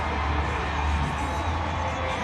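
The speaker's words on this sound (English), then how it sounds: "Good crowd here tonight in Harrisonburg at Bridgeforth Stadium" Stadium crowd at Bridgeforth Stadium in Harrisonburg before kickoff of a college football semifinal, a dense steady roar of cheering and scattered shouts, loud and continuous.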